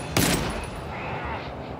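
A shotgun blast rings out in the tactical shooter GTFO: one sharp loud report followed by a sustained rumbling tail of combat noise, close and dominant.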